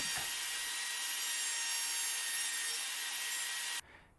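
Router cutting wood for a hamster bin cage, a loud continuous high-pitched whine and rasp that holds steady for several seconds, then cuts off abruptly.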